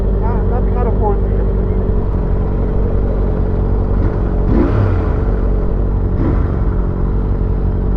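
Engine and intake note from a 2018 Honda CBR650F four-cylinder motorcycle, a steady loud rumble throughout with brief rising bursts near the middle, with people talking over it.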